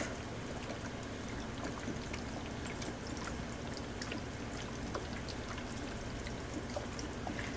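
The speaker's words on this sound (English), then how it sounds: "And then I'm just going to use regular water to top it off." Plain water poured into a bottle to top off an alcohol mixture makes a steady, continuous splashing rush that holds at an even level throughout, with no voices.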